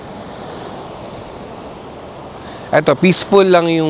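Strong surf at Indira Beach in Botolan, Zambales, a steady broadband roar of waves rolling in, with a person starting to talk over it near the end.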